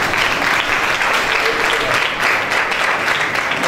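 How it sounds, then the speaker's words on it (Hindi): Steady applause from a church congregation at an Urdu-language service, dense and continuous throughout, with no talk over it. "तालियां बजाएं"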